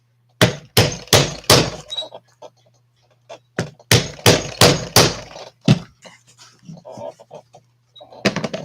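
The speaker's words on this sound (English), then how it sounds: "the arbor press works great on setting the rivets" Sharp thunks from an arbor press setting rivets come in quick bursts of three or four hard hits, with pauses and softer clicks and handling noises between them, close and loud against a faint steady hum.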